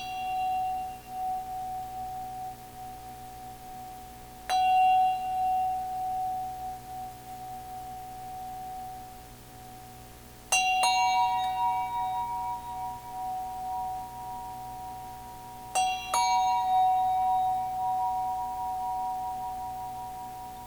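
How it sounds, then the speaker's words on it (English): A drobu singing bowl struck with a medium rubber mallet rings out in long, pure sustained tones, with several strikes spaced seconds apart, each bright attack decaying slowly into a steady hum, close and alone. "I like to play the drobu holding it this way with a mallet"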